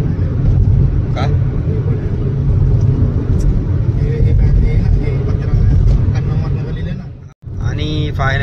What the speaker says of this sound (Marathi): बऱ्यापैकी हायवे खाली भेटलाय, गाडी पळूया.